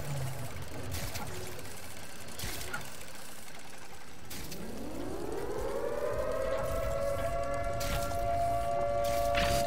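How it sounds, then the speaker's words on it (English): Siren wailing in the video game Watch Dogs: Legion, rising from about four seconds into a loud, sustained tone with harmonics that holds steady over a noisy game background. "Why is the siren going off?"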